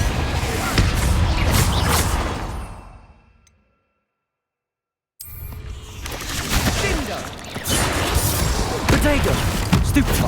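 Confringo fire-blast spells burst in Hogwarts Legacy, loud booming impacts and crackling debris under dense game effects, fading to silence mid-way before another round of blasts and clatter.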